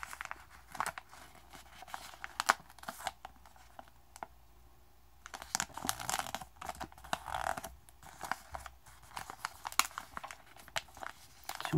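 Paper being folded by hand for an origami long box, with soft, intermittent crinkles and crisp creasing rustles in short bursts separated by quiet pauses, close and fairly faint, with no talking.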